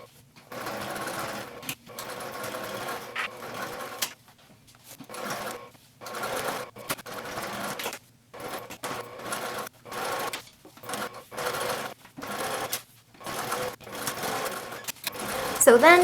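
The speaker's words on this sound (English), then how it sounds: "top stitch them in place with a 1/4 inch seam" Sewing machine top stitching cork fabric panels onto foam with a quarter-inch seam, running in repeated bursts of rapid needle chatter separated by short pauses, close and clear.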